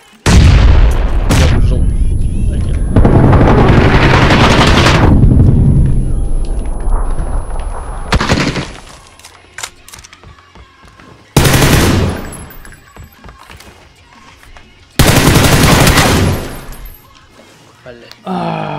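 Gunfire and explosions in the video game PUBG: loud bursts of automatic fire and heavy booms arrive in several separate blasts with quieter gaps between them, and voices talk over parts of it.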